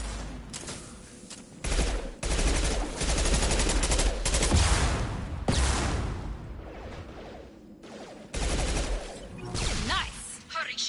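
Gunfire in Mass Effect 2, with dense, loud bursts of automatic weapons fire and shots crowding close together, nearly continuous with brief lulls, and a voice speaking briefly amid the shooting.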